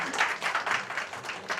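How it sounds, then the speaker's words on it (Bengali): Audience at an academy meetup function claps steadily, a dense, moderately close patter of many hands with rhythmic swells and no talking. "সবাই স্যারের জন্য একটা বড় হাততালি আর কি"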